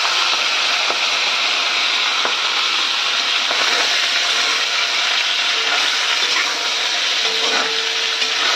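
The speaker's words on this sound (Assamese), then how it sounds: "এইফালে মোৰ মাংসখিনিও ধুনীয়াকৈ ফ্ৰাই কৰি ল'লোঁ" Meat sizzling and frying in a kadai, a steady broadband hiss with occasional stirring clicks and scrapes, close and continuous without talk.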